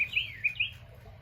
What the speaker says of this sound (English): pretty redbird singing, pretty bluebird singing, tweet, tweet, tweet